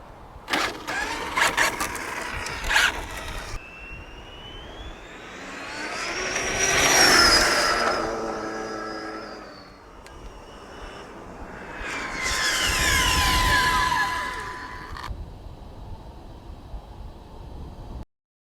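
An out-of-the-box, stock radio-controlled NASCAR car makes high-speed runs over 90 mph. Its shrill electric whine swells and fades in two separate close passes, alone with no talking.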